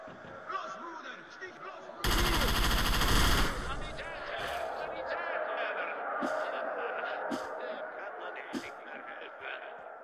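Bursts of MP5 submachine gun fire in an arena fight in the video game Stalker: Shadow of Chernobyl, with a loud sustained burst followed by scattered shots and game ambience under a man's speech.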